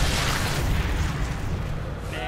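A grenade blast rumbles beside a box in Sniper Elite 3, a loud, low boom with a rolling tail that fills the short moment.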